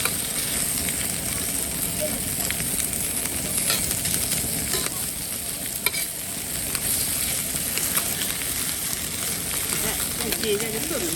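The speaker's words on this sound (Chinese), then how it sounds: "你稍微煎一下，把油煎出来" Pork belly fat frying in a wok, a steady dense sizzle with occasional stirring scrapes running throughout, fairly loud and close, with a voice talking over it at times.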